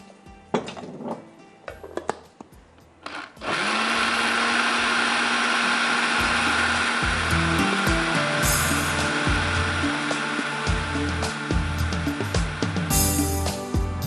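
After a few clunks and clicks of setup, an electric blender starts up loud and whirs steadily through milk, vinegar and porridge. The motor keeps a continuous roar with slight shifts in pitch as the mixture churns.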